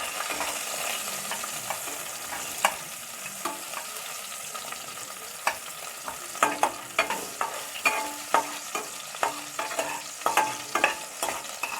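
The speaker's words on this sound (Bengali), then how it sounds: "একটু রসুন আর একটু পেঁয়াজ ছেড়ে দিচ্ছি। একটু নাড়িয়ে চাড়িয়ে নিচ্ছি।" Garlic and onion fry in a pan under a constant close sizzle while a spoon stirs them, scraping and tapping against the metal in quick, repeated strokes that grow busier toward the end, with no speech.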